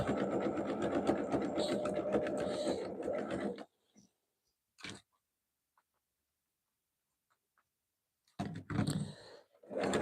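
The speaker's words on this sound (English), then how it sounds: "So we are sewing a jelly roll rug here today too" A sewing machine stitches a jelly roll rug in a fast, close mechanical rattle that stops for several seconds of near silence with a few faint clicks, then starts again briefly.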